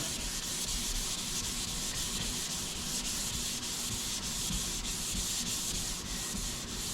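Steady, continuous hand sanding of a Dodge car door with 400-grit sandpaper, a close, even abrasive rubbing hiss that carries on without pause and without any talking.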